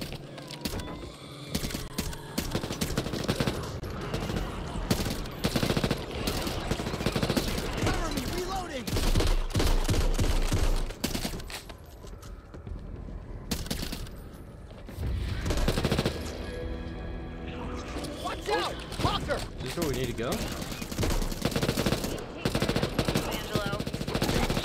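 A submachine gun fires in a video game in long, rapid automatic bursts with short pauses between them, loud and dense throughout, with occasional mechanical clatter.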